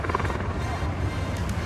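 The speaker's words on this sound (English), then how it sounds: "here the helicopter, let's see where it pops up" Helicopter passing over the marina at the Cannes Yacht Show on a gusty, windy day, a loud close rhythmic rotor thump with low engine drone dominating the short stretch, with no talk over it.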